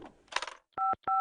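Touch-tone telephone keys being dialed in an animated cartoon, two crisp beeps in quick succession after a brief burst of clattering, with no talking.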